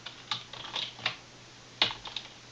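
Code being typed on a computer keyboard, heard as a short run of close, crisp key clicks with a brief pause in the middle.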